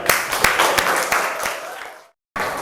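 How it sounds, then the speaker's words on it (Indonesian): Students in a classroom clap together in a dense burst of applause that carries on strongly for about two seconds, fades out into a short silence, then picks up again. "Tepuk tangan dulu."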